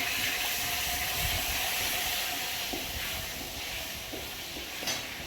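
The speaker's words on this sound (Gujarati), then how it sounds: "લસણ અહીં ટીચેલું નાખી દીધું અંદર વઘારમાં" Crushed garlic sizzles in hot tempering oil for moong dal, a loud, steady hiss and crackle with a few small pops throughout.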